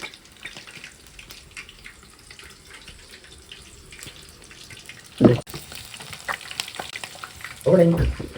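Hot oil fries in a pan while someone cooks, giving a quiet, steady crackling sizzle that flares into two louder spitting bursts.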